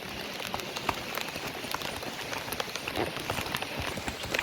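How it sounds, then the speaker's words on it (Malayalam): Rain patters steadily near a dam, a soft continuous hiss broken by many small irregular drop ticks, faint and fairly close with no other sounds standing out. "മഴ പെയ്യുന്നുണ്ട്."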